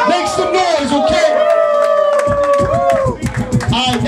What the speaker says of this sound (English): Round of applause, make some noise